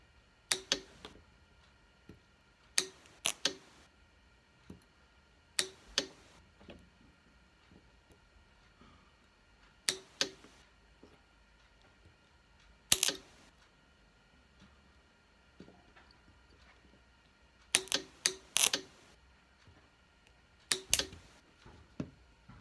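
A DIY spot welder powered by a 12V battery fires pulses welding nickel strip onto an 18650 lithium cell, producing sharp isolated cracks, often in quick pairs, spaced a few seconds apart over a faint background hum.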